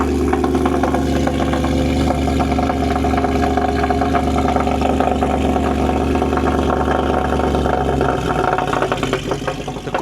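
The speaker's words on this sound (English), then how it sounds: "That first initial growl it does when you first start it, that is like, that'd jump anyone out of bed" A Mercedes C63 AMG with aftermarket headers growls and rumbles steadily up close after a cold start, a deep throaty drone that dips slightly near the end.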